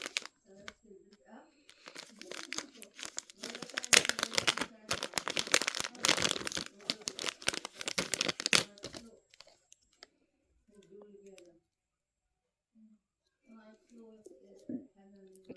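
A plastic bag from a Temu order is torn open and crumpled in a rapid burst of close, crackling rips, then quiet, with a voice talking softly afterward.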